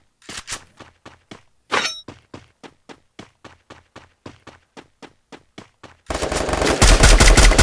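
A series of sharp gunshots in Free Fire mobile, evenly spaced single shots ringing out one after another, then a loud continuous roar takes over.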